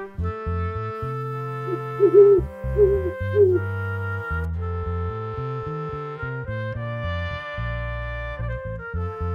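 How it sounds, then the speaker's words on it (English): An owl gives three short, low hoots in quick succession, clear but brief, over continuous background music. "owl"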